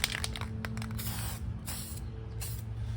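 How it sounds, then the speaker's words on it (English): An aerosol can sprays paint onto a motorcycle throttle handle in short hissing bursts, then longer sustained sprays, close up over a low steady engine-like hum. "Spray the handle."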